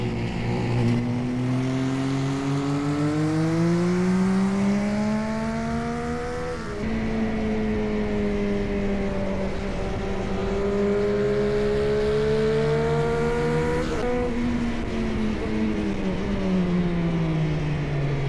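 A cheap Korean sportsbike engine revs up and down through the gears on a race track, a loud, close, continuous buzzing whine that rises, dips at shifts and climbs again.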